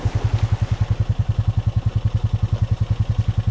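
A 420 ATV rides along a dirt road. Its engine throbs in a loud, fast, even pulse close by, over a rough rumbling wash, with no voices.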